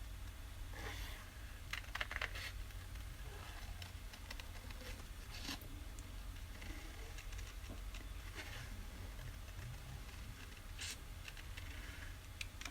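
Scissors fussy cutting around a stamped paper flower image, a soft, steady run of small snips and paper rustles close by, with faint handling clicks and no talk.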